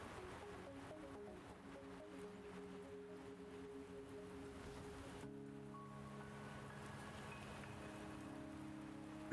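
Steady rain falls in the video game Wuthering Waves, a soft continuous patter with low tonal hum and music-like drones underneath; no one talks.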